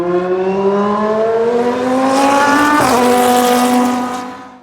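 A Pescarolo 01 race car, the number 18 car from the 2008 24 Hours of Le Mans, drives on the Laguna Seca track. Its engine screams loudly and rises in pitch, drops briefly at a shift, then fades as it passes.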